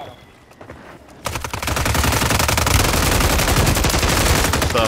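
Video game gunfire pours down from the air, starting after a quiet second and then becoming a loud, rapid, sustained automatic burst that holds steady to the end.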